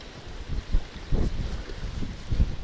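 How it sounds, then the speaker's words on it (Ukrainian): Wind blows hard outdoors on a bank during a fishing trip for wild carp, buffeting the microphone in rumbling low gusts that swell roughly every second. "Вітер дме."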